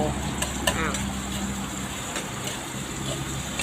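Pork and holy basil stir-fried in a hot pan, a steady sizzle with scraping stir strokes and a few sharp utensil clicks, close and continuous.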